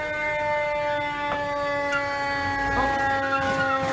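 A fire truck siren wails steadily at a 2014 building fire in Old Montreal, a loud, sustained tone holding through the whole stretch with faint street noise beneath.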